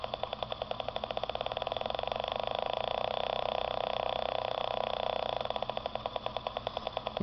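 A low-power LED oscillator powered by a small battery produces a buzzing electronic tone whose pulse rate shifts as the frequency is adjusted, quickening then slowing again, with a brief click at the end.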